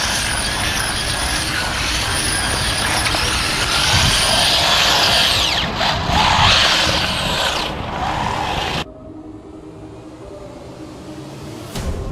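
A Wltoys 144001 RC buggy with a brushed motor runs on wet ground, its loud whining motor buzz rising and falling as it drifts, then cutting off abruptly toward the end, leaving quieter outdoor ambience.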